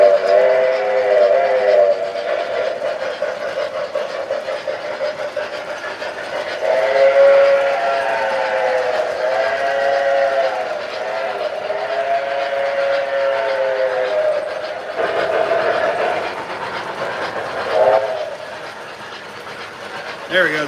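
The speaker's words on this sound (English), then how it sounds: "This is a K-line as well. Awesome running locomotive." A K-Line 040 model train locomotive runs steadily on its track while its whistle sounds in long sustained blasts, loud and close, with brief pauses between calls.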